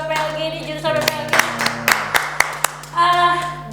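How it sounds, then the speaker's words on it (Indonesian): An audience at a vocational school event claps for the PPLG department: a short burst of scattered hand claps, fairly close, mixed with voices talking over it. "Tepuk tangan dulu dong buat PPLG ini, jurusan PPLG."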